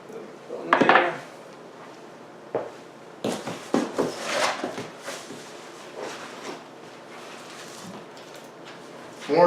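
Wooden pieces of a weathered grey Coaster Furniture desk being handled during unboxing: irregular knocks, scrapes and clatters, with one sharp burst early on and a busier run of rattling contacts later, fairly close.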